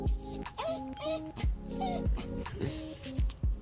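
A dog whimpers and yips in a string of high, wavering whines, broken by soft thumps, close and fairly loud indoors.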